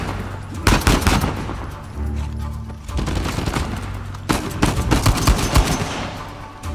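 Rapid bursts of automatic gunfire and single shots crack close and loud in a shooting firefight in Uncharted 4, with a short lull between volleys.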